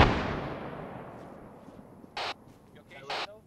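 A grenade blast in the tactical shooter Arma 3 opens with a loud boom that rumbles and slowly fades over a few seconds, then two short, sharp bursts crack in the distance.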